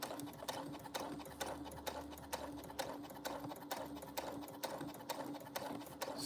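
Sewing machine stitching a bag, a steady, rapid mechanical chatter of needle strikes close by with a regular beat throughout, without pauses.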